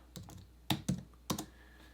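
A few quick, crisp keystrokes on a computer keyboard come in small clusters, faint and close, with quiet gaps between them.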